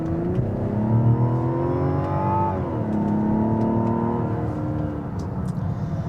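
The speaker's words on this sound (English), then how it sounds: "let's do a little acceleration" A 2025 Mazda CX-70 Turbo S Premium SUV accelerates hard. Its turbocharged engine note climbs steadily in pitch, then drops briefly at a shift before rising again. The sound is heard from inside the cabin as a continuous hum with no talk.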